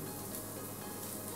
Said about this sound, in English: We'll start by frying the onions and mushrooms